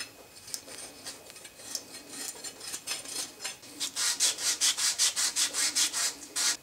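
Reamer scraping around the cut end of a pipe being prepared for a SharkBite push fitting, quiet irregular rasping strokes that become a quick rhythmic series of scrapes toward the end, close up with no talking.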